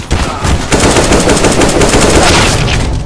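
Rapid automatic gunfire from the game CS:GO, loud and sustained with dense bursts filling the whole stretch, no talking over it.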